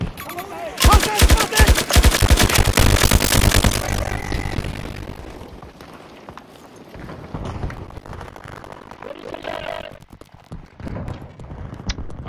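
Rapid bursts of automatic gunfire in a shooter video game crackle loud and close for a few seconds, then give way to scattered distant shots and rumbling battle noise.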